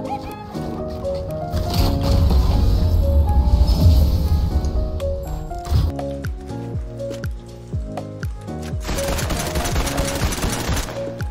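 Gunfire in the video game Fortnite: rapid bursts of shots and impacts mixed with game effects and background music, loud and dense, with a person talking over parts of it.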